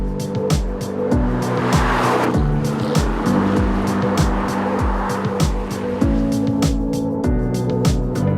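A new 2018 Aston Martin V8 Vantage is driven hard, its loud V8 engine repeatedly revving up and dropping back through gear changes, with a faint tyre squeal now and then.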